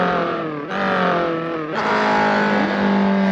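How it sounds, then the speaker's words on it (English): Race car engine at high revs, easing off and back on as it passes other cars, with sustained buzzing harmonics, a sharp drop in pitch and volume mid-run, then a strong climb again. "that back-off sound when I went by the cars"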